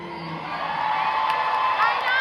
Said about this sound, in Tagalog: Salamat sa mga palakpak at sigaw!